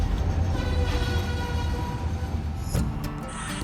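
An HO scale model freight train rumbles steadily past on a model railroad layout near a signaled yard, with a continuous low rolling drone and a brief sharp click near the end.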